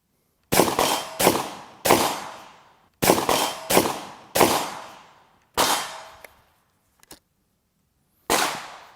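A Chiappa Triple Threat 12 gauge shotgun fires a string of loud, sharp blasts in quick pairs and triplets, each with a ringing decay, followed by a couple of faint clicks and one final shot.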